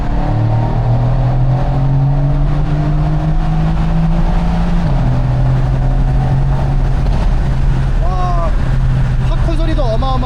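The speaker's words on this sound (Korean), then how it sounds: "배기음이 진짜 살벌합니다" A Mercedes-AMG C63 S with a V8 engine and variable exhaust in Sport Plus mode drones loudly and continuously from inside the cabin. Its pitch climbs and then shifts with gear changes, and later rev flares rise sharply.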